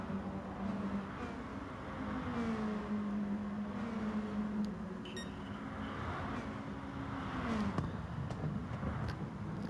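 Race car engine at full throttle in the Gran Turismo video game, a steady high drone whose pitch holds then dips and rises again as the car works through a long right-hand corner, continuous and loud throughout.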